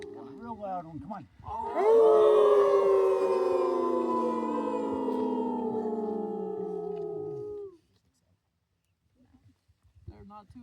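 Several people howl together in imitation of wolves, a long, loud, wavering chorus of sliding tones that rises sharply, holds for several seconds and then cuts off, followed by quiet and faint sounds.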